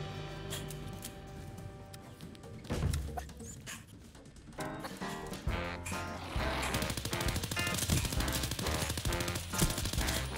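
Rapid bursts of laser gun fire in the video game Fallout 4, a dense run of sharp repeated zaps and blasts amid game noise, with no talk.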